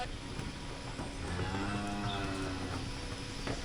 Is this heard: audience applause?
no